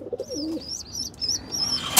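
A pigeon coos close by, low throaty warbling calls at first with brighter chirps over steady background noise, brief and fairly loud.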